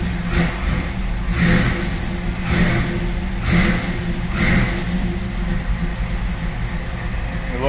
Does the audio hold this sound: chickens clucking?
no